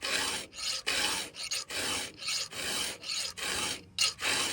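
A hand file rasps against a chainsaw tooth during sharpening, in a steady series of about ten close, gritty strokes separated by short pauses.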